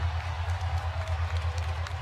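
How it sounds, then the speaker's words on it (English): Boxing arena crowd applauding and cheering for a fight between Aneson Gib and Taylor Holder, a steady dense wash of clapping and voices over a deep rumbling low hum, moderately loud throughout. "The crowd showing their approval and their appreciation."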